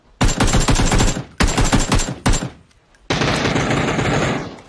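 Bursts of rapid automatic gunfire from a video game, loud and close, with short pauses between long sustained volleys.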